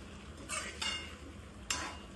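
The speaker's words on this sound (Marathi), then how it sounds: "आणि हे चांगलं असं हलवून" Food being stirred in a cooking pan: a few brief scraping strokes at irregular intervals, fairly faint and close, with no talk over them.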